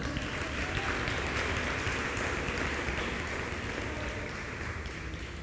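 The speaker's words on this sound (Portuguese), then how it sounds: "você pode aplaudir se quiser" A church congregation applauds during a sermon, a dense, steady wash of many hands clapping at once that holds evenly throughout, with no voice over it.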